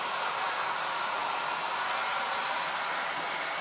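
A hair dryer blowing steadily to dry paint on an old TV tray being upcycled, a loud continuous hiss of airflow and motor close by, with no talking.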